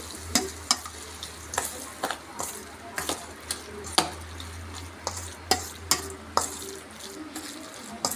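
Raw mango takku stirred in a pan after hot tempering is poured over, with a spoon scraping and clinking in a steady rhythm of sharp strokes about once a second over a soft background sizzle, up close.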